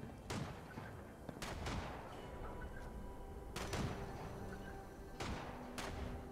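Gunfire in the video game Fallout 76, several sharp, separate shots spaced a second or so apart over a low background, quiet overall, with no talk.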